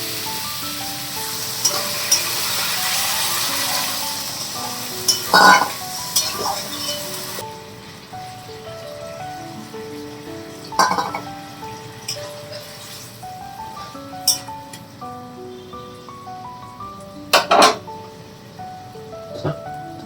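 Potato and cauliflower curry cooking in a pan, a soft steady sizzle with a few sharp clinks of a utensil against the pan, while quiet music plays beneath.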